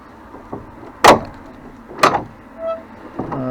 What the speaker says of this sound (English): Let's just check the door and see if it's locked.